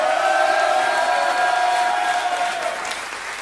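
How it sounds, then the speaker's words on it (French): Comedy-club audience applauding a front-row spectator during a stand-up show, dense steady clapping from a large crowd throughout, tapering slightly toward the end. "On l'applaudit de fou!"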